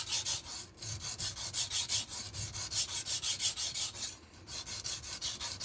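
MAC chef knife drawn over a higher-grit sharpening stone, a steady run of rhythmic rasping strokes, close and fairly loud, with one brief pause partway through and no talk.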